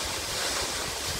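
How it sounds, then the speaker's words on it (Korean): Jeongbang Waterfall on Jeju Island roars as a steady, dense broadband rush of falling water, loud and unbroken throughout the short moment with no voices. "이곳은 정방폭포."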